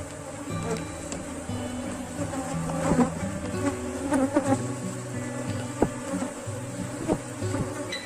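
Honey bee swarm buzzing around hive boxes, a dense continuous hum with individual bees droning past close by, rising and falling in loudness.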